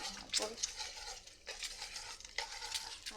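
Sizzling from an egg frying in a hot wok with repeated scraping and stirring strokes, close and fairly loud, no voices.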